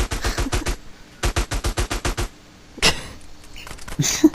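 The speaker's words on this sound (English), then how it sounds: "you just keep on keeping on that fucking Uzi" Uzi submachine gun fire in the video game GTA San Andreas: several rapid bursts of shots, a long burst and then a second run of evenly spaced shots, loud and close, with a few scattered clanks and hits near the end.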